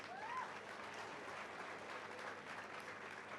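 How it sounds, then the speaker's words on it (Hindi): An audience at a Hindi-language talk event claps for the film Satya, a steady, fairly distant wash of crowd applause that runs unbroken, with a faint whistle near the start. "सत्या के लिए एक बार जोरदार तालियां."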